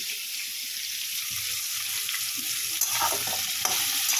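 Large-cut vegetables fry in a pan for khichuri, a continuous close hiss and crackle at moderate level, with a few sharper clinks and spatters near the end.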